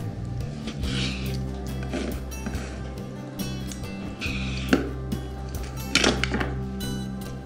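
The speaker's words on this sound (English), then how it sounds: "I could just use this knife, I guess. I'm gonna cut a little piece off and give it a try." A knife cuts a small piece from a sous vide strip loin with faint, brief slicing and a few soft thunks and clinks against a board or plate, close and quiet with low background hum.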